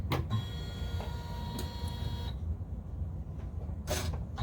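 A Janome Memory Craft 500E embroidery machine starts stitching on a hooped kids' shirt, giving a steady whirring hum with faint tonal whine and a few sharp mechanical clicks, close and alone without talk.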